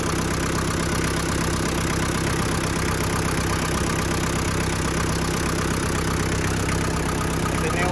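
A 1996 Daihatsu Taft Rocky 4x4 engine idles loudly and steadily up close, a constant low mechanical drone with a faint rhythmic knock and no talk.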